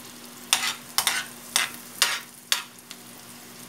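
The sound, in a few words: garlic sautéing in a pan until reddish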